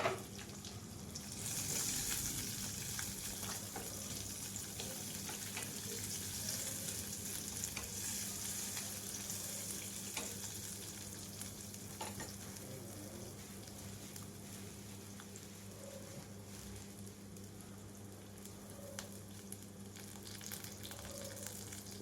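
Onion and green chilli sizzling in a pan for sambar, a steady continuous fry with faint stirring scrapes throughout, close and moderately loud with no talk.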